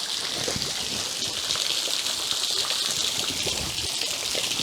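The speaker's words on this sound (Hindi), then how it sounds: "यहाँ से ये पानी गिरता है।" Water falls steadily inside a cave where hanging tree roots dangle, producing a continuous close hiss and splatter like heavy rain with no voices.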